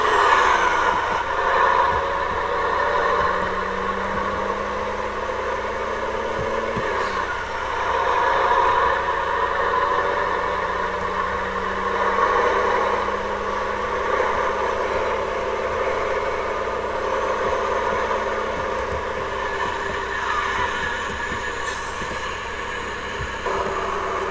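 A Scania 124 truck engine idles with a steady, even drone, heard from inside the cab at moderate level with faint rattles and no talking.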